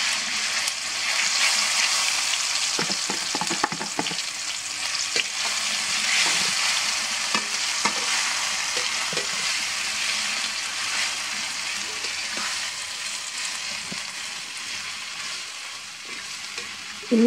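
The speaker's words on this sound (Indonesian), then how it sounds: "Ini kita tumis sampai kunyit dan jahenya itu nggak bau langu, dan juga bumbunya jadi wangi banget ya." Ground spice paste with turmeric, ginger and lemongrass stir-fries in a pan, a steady close sizzle broken by the scrape and clack of a spatula moving the paste around.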